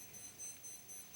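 A phone alarm goes off in a county council meeting room, faint high-pitched beeps repeating in an irregular pattern over low room hum.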